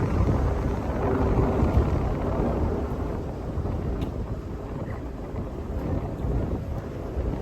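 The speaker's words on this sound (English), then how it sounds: "it is a bit of a windy day today, so apologies if the wind gets in the way of the audio" Strong wind buffets an outdoor microphone along a street section of the Parramatta Light Rail on Church Street, a steady, loud low rumble and roar that fills the whole stretch with no voices.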